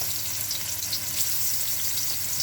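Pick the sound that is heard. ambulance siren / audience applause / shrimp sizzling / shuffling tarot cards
shrimp sizzling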